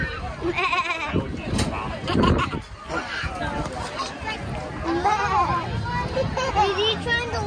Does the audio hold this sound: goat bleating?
yes